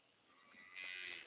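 A cow on a small farm lets out a brief, faint moo lasting about a second, rising in loudness midway with no talk over it.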